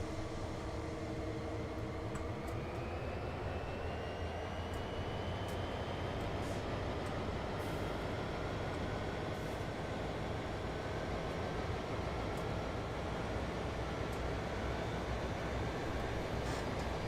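An intermodal freight train rolls past in the Train Sim World 2 game on Sherman Hill, a steady, dense rumble of wheels and wagons with faint high squeals, continuous and fairly close for the whole stretch.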